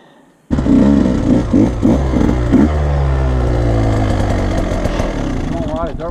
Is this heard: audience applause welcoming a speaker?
no